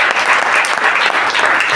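Congregation at a church service clapping and applauding to acclaim Jesus, a dense, loud burst of many hands together, continuous across the short moment.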